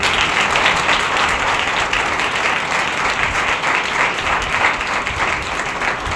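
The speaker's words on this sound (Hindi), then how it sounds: "तालियां बजा सकते कोई?" A Sunday service congregation bursts into sustained clapping, a dense, even wash of many hands that holds at a fairly loud level throughout with no voice over it.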